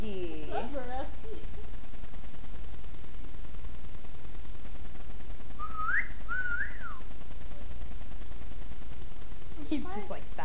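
A person whistles a few short rising and falling notes in a quiet room, with brief bursts near the start, middle and end and faint background hiss.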